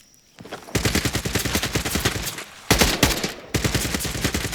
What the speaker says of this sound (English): The guns don't sound bad either.